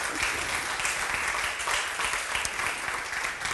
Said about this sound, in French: pouvez les applaudir